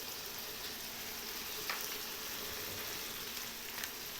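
Surf clams stir-fried in a pan with seasoning, giving a steady, even sizzle and crackle throughout with an occasional soft scrape of stirring, close and moderately quiet, with no talking.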